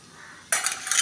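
Chopped onions tumble into a bowl for curd pachadi, a sudden close rustling clatter that starts midway and carries on for about half a second after a quiet lead-in, with no talking.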